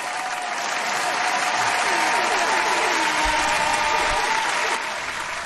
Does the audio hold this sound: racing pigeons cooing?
no